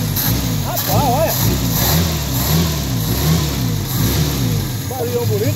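A 1985 Ford Belina's engine runs loud and close, rising and falling through several revs of the accelerator with a steady mid-pitched drone. Voices can be heard over it.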